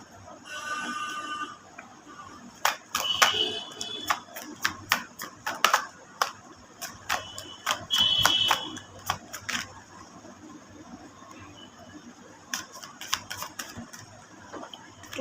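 A deck of cards is shuffled and dealt by hand, producing bursts of quick riffling flutters and sharp taps and slaps, close and fairly quiet, with brief soft talk in between.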